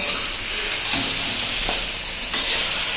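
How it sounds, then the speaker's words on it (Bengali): Chopped tomatoes sauté in a spiced masala with Kashmiri chili powder in a hot pan: a steady, bright sizzle with occasional scraping stirs. "টমেটো কুচি, এবার এটা দিয়ে ভালো করে কষিয়ে দেবো।"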